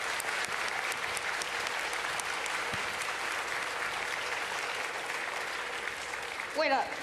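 A large audience at Taiwan's National Day ceremony applauds for healthcare workers, with dense, sustained clapping at a steady level throughout and a brief voice near the end.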